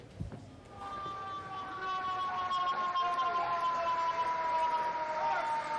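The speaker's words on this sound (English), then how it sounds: "You can hear the sirens in the background" Emergency vehicle sirens wail on a New York street, a steady distant tone over a low hum of city traffic.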